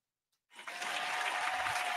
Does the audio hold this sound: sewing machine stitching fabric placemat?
no